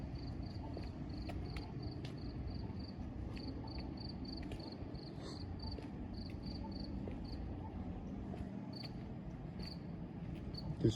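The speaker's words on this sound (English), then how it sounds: "This cricket might be synced, I don't know." Cricket chirping steadily through the whole stretch as a rapid, evenly repeating trill with a constant background hum, moderately near and alone.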